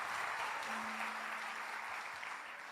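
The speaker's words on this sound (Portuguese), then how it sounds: "Você pode aplaudir com alegria." A church congregation applauds during a Portuguese-language sermon, a moderate, steady wash of clapping from many hands that continues evenly throughout, a little distant in the room.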